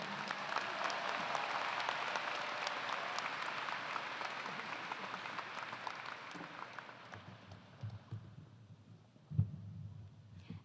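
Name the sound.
audience applause welcoming a speaker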